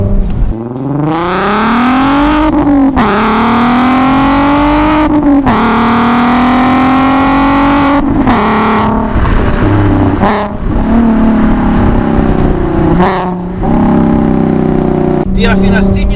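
A Volkswagen Golf R32 MK5 with its V6 engine and aftermarket exhaust revs hard toward 6500 rpm, rising and falling in several loud pulls close by, with a voice talking over parts of it.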